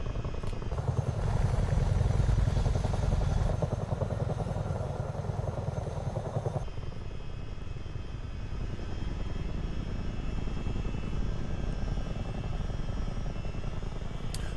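A Chinook helicopter's engines and rotors in Microsoft Flight Simulator 2024, a steady, dense thrumming drone with rhythmic blade beat that is louder at first, then drops to a lower, slightly quieter hum partway through.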